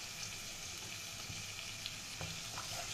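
A Kashmiri chilli spice paste frying in a pan for a fish curry, a steady, dense hiss and sizzle with faint scraping, continuous and fairly quiet, with no voices.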